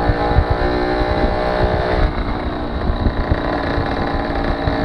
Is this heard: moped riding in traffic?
yes